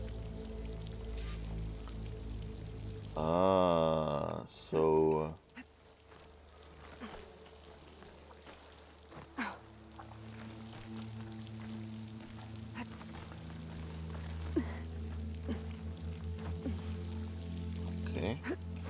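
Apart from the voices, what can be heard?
water flowing into a wall in the video game Horizon Forbidden West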